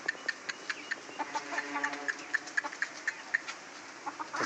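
Roosters, hens and chickens cluck in a steady string of short, sharp calls, fairly close but soft, with a faint low murmur of voices underneath.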